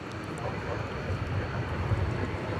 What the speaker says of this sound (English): we've got a constellation of aircraft